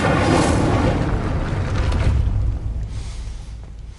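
Incendio fire spell from Hogwarts Legacy bursts with a loud whooshing roar that tails off into a fading rumble over a few seconds, with no talk.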